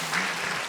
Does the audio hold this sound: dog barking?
no